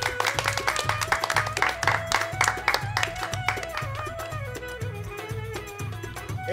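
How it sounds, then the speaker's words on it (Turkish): At a Turkish concert, the audience claps in steady time along with a lively band, with strong drums and melodic instruments filling the room. The clapping blends into the loud music rather than standing apart. "Hep beraber alkışlar nerede?"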